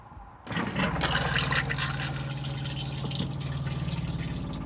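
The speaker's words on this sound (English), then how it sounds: "Blue button to flush." A Thetford cassette toilet in a Majestic 155 caravan flushes. A short quiet pause gives way to a loud, steady rush of water with a pump hum underneath, heard up close and without talk.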